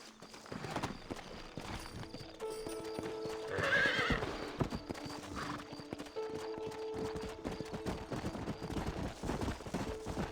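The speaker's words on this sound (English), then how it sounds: "Horses are over here!" Horse hooves clip-clop steadily in the Western-frontier video game Red Dead Redemption, with a brief whinny and neigh rising over the hoofbeats midway, set against a faint background ambience.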